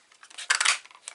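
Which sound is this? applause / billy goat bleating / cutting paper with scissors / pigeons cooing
cutting paper with scissors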